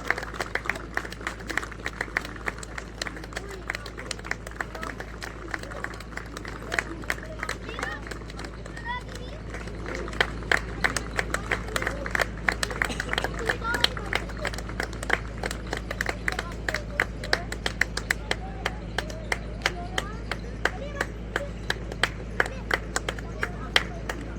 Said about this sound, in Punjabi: ਜ਼ੋਰਦਾਰ ਕਲਾਪਿੰਗ ਕਰ ਦਿਓ